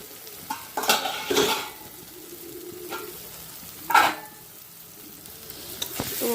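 Masala for egg curry frying in oil in a pan, a soft sizzle under intermittent scrapes and clinks of a spatula stirring, with a few sharper strokes against the pan.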